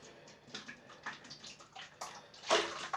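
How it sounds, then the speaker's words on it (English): Water splashes and gurgles in short bursts as a shaving brush with a rubberized handle is rinsed out, close and fairly quiet, with no talking. "let me just rinse this brush out so you can see it a little better"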